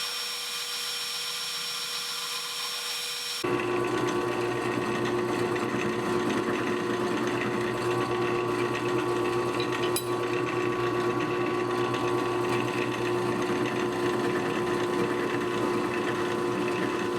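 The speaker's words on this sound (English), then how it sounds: "I'm going to go over to the grinder and flatten them up and then drill the pin and lanyard holes" Grinder flattening Damascus knife handles in a workshop: after a quiet start the machine kicks in with a loud, steady whine that continues unbroken to the end.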